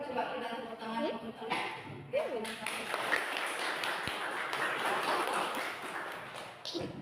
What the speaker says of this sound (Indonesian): coba kita tepuk tangan untuk